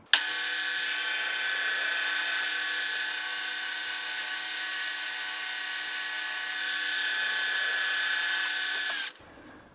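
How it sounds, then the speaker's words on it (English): A power drill boring 8mm holes in a metal support bracket whines steadily at high pitch for several seconds, loud and close, then abruptly stops. "now we'll drill the two 8mm holes in the support bracket"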